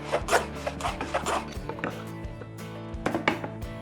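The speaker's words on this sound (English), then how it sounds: "I squared off the ends using a shooting board." Board ends being squared with a hand plane on a wooden shooting board: a series of short, rough shearing strokes, bunched at the start and again near the end, close and moderately loud with no speech.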